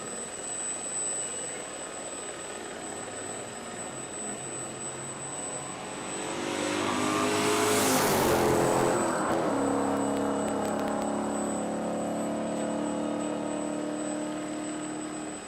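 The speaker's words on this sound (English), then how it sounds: "Johan van der Westhuizen will be the next car to come through" A BMW E36 race car sweeps past at speed on a top-end run, its engine roar swelling to a loud peak near the middle and fading away, over steady background noise.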